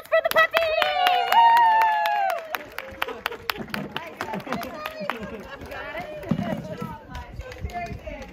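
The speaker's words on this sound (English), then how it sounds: "Round of applause for the puppy!" Cabaret audience cheering and clapping for a puppy, loud whoops and excited voices followed by scattered, uneven clapping and lively chatter.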